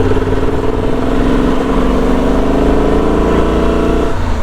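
A Transalp motorcycle engine pulls hard in fourth gear, a loud, close, steady drone rising in pitch as the throttle opens, with wind rush throughout and a drop in revs at the end.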